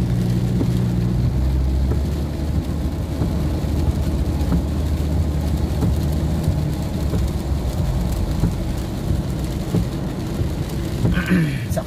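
Heavy rain pours steadily during a test drive of a vehicle with a rebuilt 6R automatic transmission. It makes a dense, constant wash of noise over a low engine rumble from start to finish.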